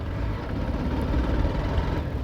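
A Hero Xtreme 160R motorcycle engine idling on its own with no throttle, giving a steady low, faint rumble that holds even throughout.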